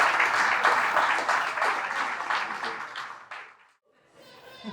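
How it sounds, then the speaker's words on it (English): Enthusiastic applause from a room of wedding guests after a toast fades out over a few seconds, followed by a brief quiet moment. "Big round of applause for Morgan."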